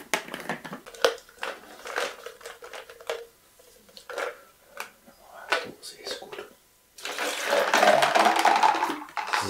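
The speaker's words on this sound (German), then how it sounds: "Okay, also Eis ist drin, wir nehmen stilles Wasser." Still water is poured over ice in a glass, preceded by clinking and crackling of ice cubes, then a steady loud pour for a couple of seconds at close range.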